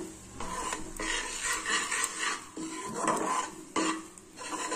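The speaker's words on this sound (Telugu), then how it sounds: "కొంచెం బాగా శనగపిండి అనేది వేయించుకోవాలండి." Gram flour roasting in a little oil in a pan, heard as repeated scraping and rasping strokes of a spatula against the pan in uneven bursts, close and fairly quiet, with no talking.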